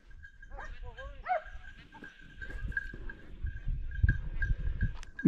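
A hunting dog gives a few sharp barks and yelps early on during a wild boar hunt, then scuffling noises and voices follow nearby.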